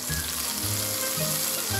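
Pork for umeboshi-ponzu pork sizzles steadily in a frying pan over medium heat, a close, dense hiss that stays constant throughout.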